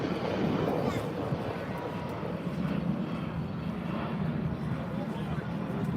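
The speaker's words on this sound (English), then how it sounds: "Yeah, it's a Ryanair." A Ryanair airliner at Manchester Airport roars in a broad, steady rumble with wind buffeting the microphone, a continuous engine noise heard from outside at moderate distance.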